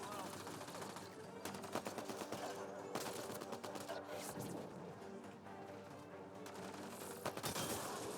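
Rapid bursts of enemy gunfire in the Mass Effect: Andromeda game, crackling volleys and single shots repeating through the clip amid combat noise, fairly quiet overall.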